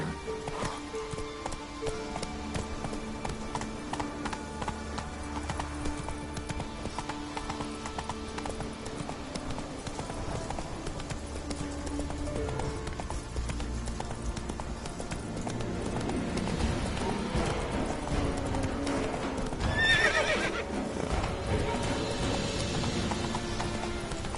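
Hooves of a horse galloping in The Witcher 3, a rhythmic clip-clop pounding that carries on steadily and grows louder toward the end, with a short whinny-like sound near the close.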